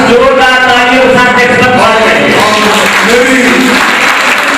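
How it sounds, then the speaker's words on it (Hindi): Loud, continuous applause from attendees at a community conference hall gathering, close and dense, with voices and a tonal drone running beneath the clapping. "जोरदार तालियों के साथ"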